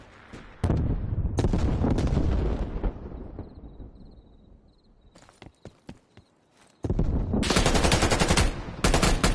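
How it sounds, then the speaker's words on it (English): Bursts of heavy gunfire and blasts in a Call of Duty Cold War beta match, with a loud burst up front, a quieter stretch of scattered shots and footsteps, then a sustained loud barrage of fire and explosions near the end. "Throwing grenade."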